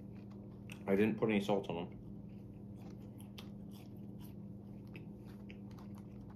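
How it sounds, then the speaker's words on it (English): Burger King French fries being chewed, with crunchy bites and soft mouth noises close to the mic, mostly after a short burst of someone talking. "Next, I will be trying the Burger King French fries."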